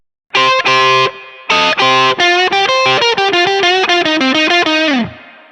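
Distorted electric guitar through a Line 6 POD GO plays a run of sustained chords and quick riffs, washed in spacious dynamic hall reverb that lingers and rings out at the end.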